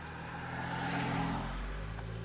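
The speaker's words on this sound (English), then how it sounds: "I'll wait till this car passes." A car passes close by outdoors near a tunnel area, a steady broadband road rumble and engine drone swelling slightly at the middle and easing off, heard alone without talk.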